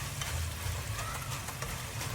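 Cabbage and ground meat saute in a pan for a simple home-cooked dish. The sizzle is loud, steady and close, with a constant hiss and no talking.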